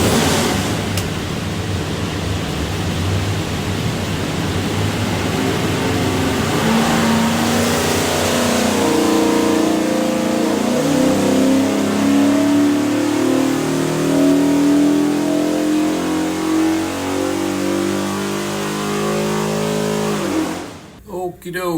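Ford 347 stroker V8 with cast heads, built for an 1989 Lincoln Mark VII, on a dyno run: a loud sustained roar that climbs steadily in pitch over about twenty seconds, then cuts off abruptly.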